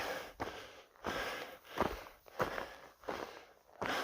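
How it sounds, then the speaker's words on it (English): Heavy, rhythmic breathing close up while hiking uphill at over 6,000 feet, a series of loud huffing breaths, with footsteps faintly underneath and no talking. "I'm breathing hard"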